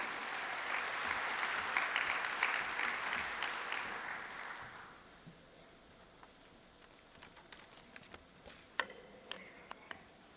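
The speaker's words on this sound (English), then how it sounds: "With a round of applause, let's welcome Mr." Audience applause at the Semicon India 2025 event welcoming Kai Beckmann: a fairly faint, distant wash of clapping that fades after about five seconds, leaving scattered individual claps and small noises in a quieter room.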